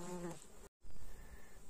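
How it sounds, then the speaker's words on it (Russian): A thin, steady mosquito buzz drones close to the ear, briefly cut off and then resuming over soft outdoor background noise along a meadow path in early morning. "а вокруг меня комары"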